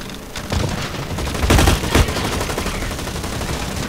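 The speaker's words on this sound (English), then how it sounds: "a deployable turret that shoots at people who don't even know they're on the other side of a wall" A deployable turret in the shooter game Blacklight Retribution fires a rapid burst, dense crackling gunfire with a few heavier cracks mid-burst, continuing steadily without any talking.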